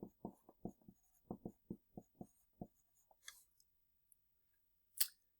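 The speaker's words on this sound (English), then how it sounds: "over here I'm going to write radiation" Marker or chalk writing on a board during a heat-transfer lesson: a quick run of close, distinct stroke taps and scrapes, then a few isolated clicks and a sharp final squeak, with no talking.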